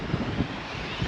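Outdoor wind buffets the microphone with a steady, loud low rumble and gusty swells for about a second, with no one speaking.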